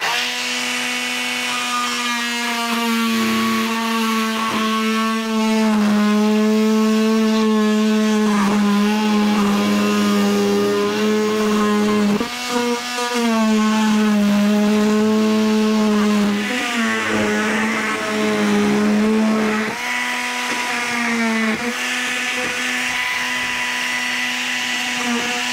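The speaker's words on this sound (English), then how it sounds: "I'm gonna use this oscillating multi-tool. Cut a pretty straight line." An oscillating multi-tool cuts a straight line through beige solid plastic, giving a loud, steady buzzing whine that runs throughout with slight pitch shifts as the blade bites.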